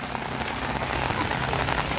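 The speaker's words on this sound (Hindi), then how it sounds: "अभी पड़ रही है गाइस बहुत तेज बारिश" Heavy rain pours down steadily on surfaces in an outdoor plot, a dense, continuous hiss with no voices.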